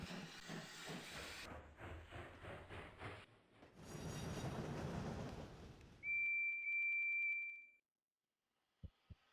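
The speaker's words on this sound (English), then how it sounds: "Beep, beep, beep, beep. Where's Thomas? Whistled Percy." A toy steam engine hisses and chuffs, then gives one long, steady, high whistle tone lasting nearly two seconds, followed by a pair of short clicks near the end.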